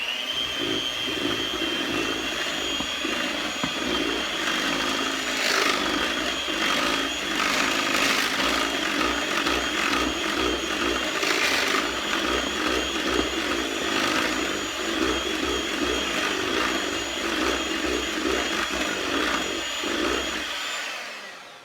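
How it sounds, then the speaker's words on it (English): A small electric hand mixer whirs steadily through cake batter in a bowl, a loud sustained high motor whine with slight wavering as the beaters move, running alone and cutting off at the very end. "Sometimes it leaves lumps, so I like to use a little hand mixer."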